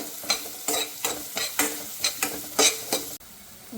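Chopped onions with salt and cumin frying in a pan for carrot curry, a constant close sizzle with rhythmic scraping strokes as a spoon stirs them, about eight stirs in quick succession, no voices.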